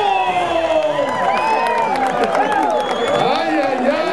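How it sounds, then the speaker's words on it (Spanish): A crowd at a children's jaripeo bull-riding show claps and cheers for a young rider, a dense continuous wash of applause and voices with someone talking loudly over it. "¿Y por qué no le dan el aplauso?"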